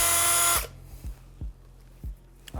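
Power drill boring slowly into a part of a wrecked Yamaha V-Star 1300 bobber motorcycle, one loud whining burst that stops abruptly, followed by several short low thumps and clicks nearby.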